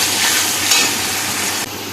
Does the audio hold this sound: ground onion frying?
yes